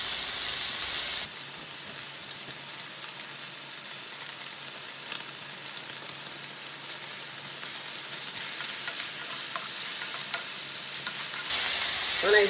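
Tomatoes sizzling and popping in a frying pan, a steady, close, bright frying hiss running on without a break, with small scattered pops and faint clinks, no voices.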